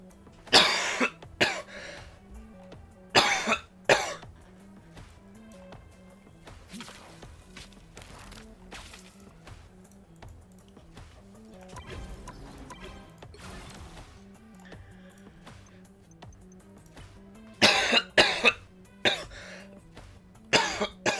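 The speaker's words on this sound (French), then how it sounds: "j'en peux plus d'être de tousser comme ça là tout le temps" A man coughs repeatedly in loud, harsh bursts, with clusters near the start and again toward the end, separated by quieter stretches holding faint background sounds.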